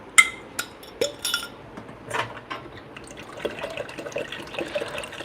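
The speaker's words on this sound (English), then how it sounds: "I'm going to fill up my tank." Water poured into the tank of a Rocket Appartamento espresso machine, with clinks of the container against it and irregular splashing and trickling in short bursts, close and clear.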